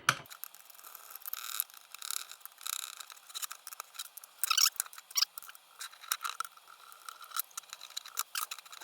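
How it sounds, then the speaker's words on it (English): A Nerf Sharpfire blaster shell being screwed back together, with small clicking, ratcheting scrapes of a screwdriver turning in bursts and pauses, close and quiet without talking. "Then we screw everything back together."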